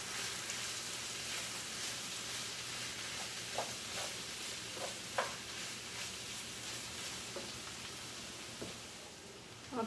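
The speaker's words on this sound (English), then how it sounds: "then I'm also going to add all my garlic. It's a lot of garlic, but it tastes delicious. Okay, let this saute for a little bit." Chopped garlic sautés in a pan with a soft, steady sizzle and occasional faint clicks and pops of stirring, fairly quiet and without talk.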